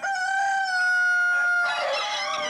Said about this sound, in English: Somehow, the favourite manages to find a couple of final crows held in reserve.